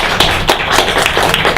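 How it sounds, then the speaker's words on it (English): An audience applauds at a peace café gathering, a brief patch of scattered, uneven hand claps heard up close and fairly loud. "please give yourselves a round of applause"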